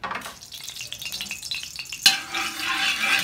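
Hot cooking oil sizzles in a pan while a spicy paksiw na pata is being made. A soft frying hiss flares into a louder, steady crackle partway through, with faint clinks of cookware and no talking.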